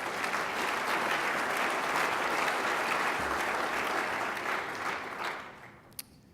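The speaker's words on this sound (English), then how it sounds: "I think they deserve a round of applause as well." A round of applause at a university gala, sustained crowd clapping that holds steady for several seconds, then thins and fades near the end, with a single sharp clap at the tail.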